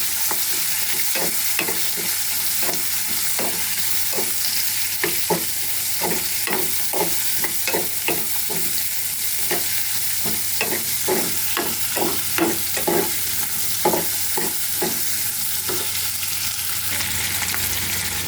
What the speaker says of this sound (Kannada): ಈಗ ಫ್ರೈ ಮಾಡಿ